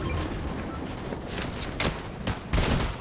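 Fortnite gunfire crackles as sustained rapid shooting, with several louder, sharper bursts standing out toward the end, and faint voices underneath.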